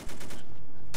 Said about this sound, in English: Mortar, I guess.